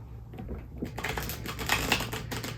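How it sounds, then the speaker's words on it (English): A tarot card deck being given a thorough shuffle indoors, a run of quick papery riffles and flutters building in the middle, close and clear, with a faint steady hum underneath. "I'm gonna give them a really good shuffle."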